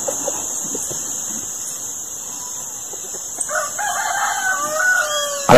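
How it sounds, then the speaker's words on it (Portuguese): Rooster crowing and chickens clucking on a rural farm, with a constant high-pitched insect or bird drone in the background and a clear crow rising near the end, moderately close. "E aqui só ouvindo o canto dos pássaros."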